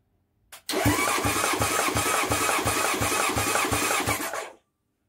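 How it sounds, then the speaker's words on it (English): A Honda CB750 chopper motorcycle engine cranks over on the starter during a compression test, giving a loud rhythmic chug of about eight even pulses that stops without the engine firing. "cranking now, and as the motor turns over, you'll see the compression"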